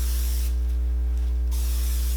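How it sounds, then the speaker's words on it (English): Hairspray hisses from an aerosol can onto teased, curled hair in a single steady burst of about a second, broadband and close, with a faint electrical hum underneath and no talking. "as you're spraying it with the hairspray"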